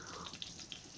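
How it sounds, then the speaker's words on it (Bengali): Eggplant slices go into hot oil over medium heat, producing a faint, continuous hissing sizzle dotted with a few soft crackling pops. "ফুটন্ত তেলের মধ্যেই আমি বেগুনগুলো অ্যাড করে দিচ্ছি।"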